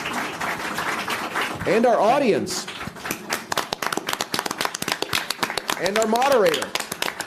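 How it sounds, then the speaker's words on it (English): Audience and moderator give panelists a round of applause at a global refugee asylum system seminar. Dense, steady clapping runs beneath a voice that continues speaking over it. "Let's have a round of applause for our panelists and"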